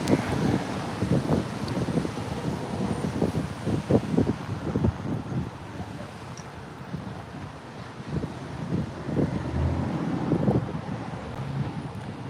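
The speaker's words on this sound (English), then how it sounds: "wind is picking up" Gusty wind buffets a microphone outdoors on a rainy fishing day near the water, irregular rumbling bursts rising and falling over about twelve seconds with no speech.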